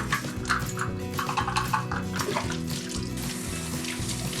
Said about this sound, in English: And I'm using hot water to rinse.